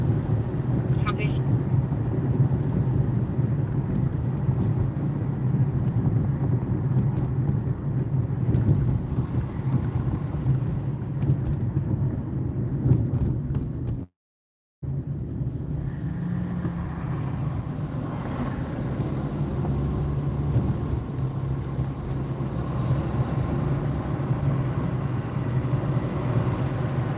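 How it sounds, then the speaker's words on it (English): A car's cabin carries a constant low road rumble and engine drone while driving, steady throughout apart from a brief dropout midway. "Yeah, I'm driving."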